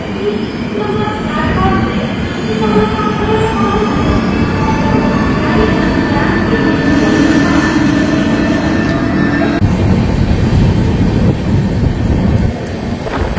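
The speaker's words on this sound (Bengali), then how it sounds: "এইবার আমাদের ট্রেনের সাথে যে ট্রেনের ক্রসিং হচ্ছে" From aboard the 12277 Howrah–Puri Shatabdi Express, another train passes close alongside at a station crossing, giving a loud, continuous rumble and rattle of wheels with a steady tonal hum over the whole stretch, with no one speaking.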